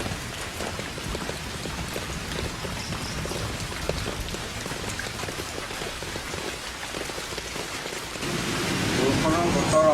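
Steady rain falls throughout, a dense continuous patter that swells louder near the end.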